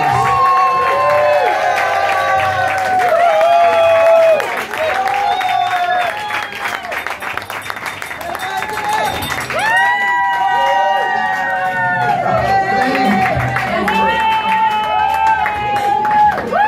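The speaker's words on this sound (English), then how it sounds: "Let's have a welcoming round of applause for Jim Luce." An audience at a Chinese art show loudly welcoming speaker Jim Luce, with sustained cheering, whooping voices and applause filling the room.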